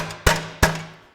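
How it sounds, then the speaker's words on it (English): Two sharp knocking rattles a fraction of a second apart, close and fairly loud, each decaying quickly into quiet, from a Ferguson tractor door rattling in its track. "the door just rattling in the track"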